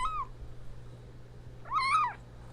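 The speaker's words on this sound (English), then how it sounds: "She sent me a video of the little kitty." A small kitten meows twice from a phone video being played back, the first cry short and the second longer and rising then falling, both fairly clear over a low steady hum.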